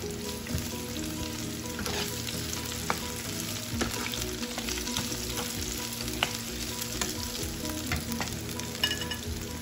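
Green chillies, onion, capsicum and tomato frying in a pan, a dense continuous sizzle with occasional soft stirring knocks, close and steady throughout with no speech.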